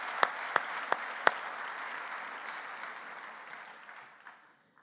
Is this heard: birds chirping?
no